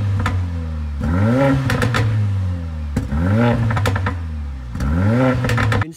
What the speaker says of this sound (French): Une sonorité d'échappement qui m'est familier parce que je le connais personnellement